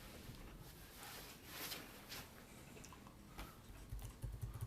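Faint, quick clicks from a computer keyboard during a Kali Linux install in a virtual machine, tapping irregularly under a steady low hiss with no voices.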